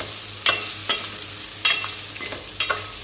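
Eggs being stirred in hot oil in a pan for an egg curry, with a few scraping spatula strokes over a faint steady sizzle, close and moderately quiet, no talking.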